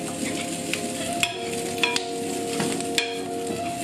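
Steak and vegetables sizzling steadily in a hot pan as a utensil stirs and scrapes through them, with several sharp clinks of metal on the pan rising above the constant frying hiss.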